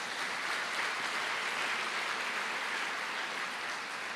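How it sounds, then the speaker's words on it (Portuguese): Church congregation applauding during a sermon, a steady, even wash of many hands clapping, moderately distant and continuous without any voices. "Pode aplaudir ao Senhor."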